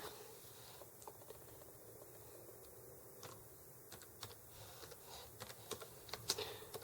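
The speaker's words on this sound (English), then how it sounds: "I'm typing with one hand, which isn't the best way to do this" One-handed typing on a computer keyboard while installing Puppet Master Enterprise on CentOS 7.2: faint, irregular key taps in small bursts over a quiet room, no talk.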